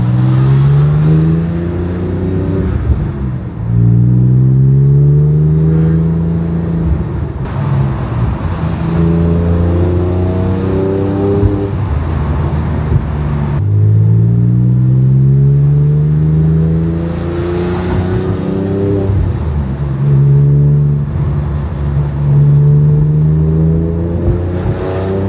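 A Porsche 997 911 fitted with an aftermarket exhaust, driven with its engine note rising and falling through repeated gear pulls, loud and steady throughout with no talking.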